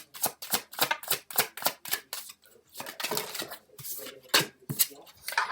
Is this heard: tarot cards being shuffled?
yes